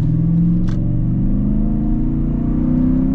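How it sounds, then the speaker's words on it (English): A V8 engine fitted with a K&N air intake runs with a loud, deep, close-up rumble that stays steady and throaty throughout. "that V8 sounds great. So it's got a K&N air intake"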